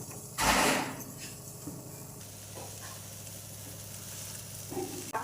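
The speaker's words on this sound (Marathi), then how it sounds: "हे चांगलं असं मिक्स करायचं हळूहळू" Peeled amla and grated jaggery being stirred in a kadhai over a medium gas flame: a loud sizzling burst near the start, then steady soft scraping and stirring with a low hum underneath, no talk.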